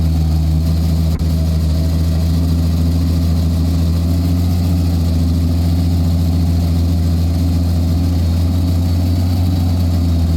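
A tank engine running in Tank Mechanic Simulator, a loud, steady low drone with a constant hum that barely changes, heard alone without talk.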